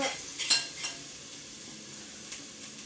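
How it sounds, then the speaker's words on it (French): Sliced shallot frying in a pan makes a faint, steady sizzle, with a couple of brief utensil clinks and stirring scrapes at the start. "J'ai émincé mon échalote, je vais dire mon oignon. Voilà, et là je vais le faire revenir."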